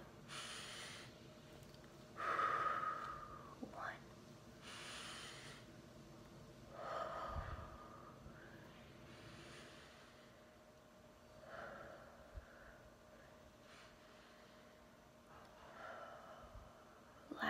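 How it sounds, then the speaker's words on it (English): A group takes five deep breaths together, with slow inhales and long exhales spaced several seconds apart. The breaths are soft and near, with quiet gaps between them and no talking. "let's first take five deep breaths together"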